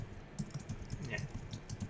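Fingers type on a computer keyboard with rapid, uneven clicks and clacks, heard up close. A voice talks faintly underneath.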